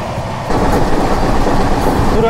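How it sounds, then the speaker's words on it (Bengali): A train rumbles steadily at about 123 km/h on the rails, a continuous loud roar with a faint rhythmic clatter, louder after a brief quieter start. "এখন 123 কিলোমিটার বেগে আমাদের ট্রেন ছুটে চলেছে সামনের দিকে"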